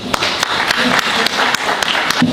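An audience at a formal talk show function greets a guest with loud, continuous applause, a thick wash of clapping with a few sharper individual claps standing out and faint voices mixed in.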